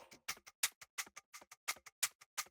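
An electronic drum and bass shaker shaped by a ShaperBox percussion preset ticks in a fast, regular loop of bright, textured hits with more body and a grainy, chopped edge, alone and close.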